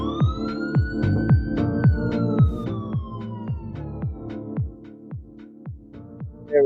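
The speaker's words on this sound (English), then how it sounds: "We got the sirens." A police siren sound effect wails upward and then slowly falls, layered over a steady thumping music beat, loud and continuous throughout.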